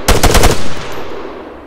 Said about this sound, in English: since this is a saw basically, this is a support weapon